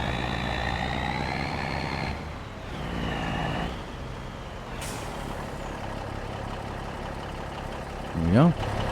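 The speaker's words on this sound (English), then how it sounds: "Truck sounds good." Truck engine in the video game Farming Simulator 25, a steady idling rumble with a hiss and tonal whines, and a short rising horn-like burst near the end; steady and fairly close.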